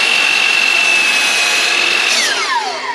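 Impact driver boring into wood during a 1980s camper van conversion, a loud steady high whine close up that drops in pitch as the bit slows near the end.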